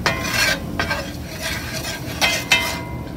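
Flour being stirred in a pan for gravy, a steady scraping and stirring with soft sizzle and a few sharper utensil scrapes against the pan, close and moderately loud.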